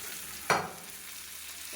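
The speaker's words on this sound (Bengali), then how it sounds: "তো চলো এবার এটাকে একটুখানি ভেজে নিই" Taro stolons are fried in a pan, a soft sizzle broken by one quick stir or scrape and a faint second stir at the end, quiet and brief with no talk.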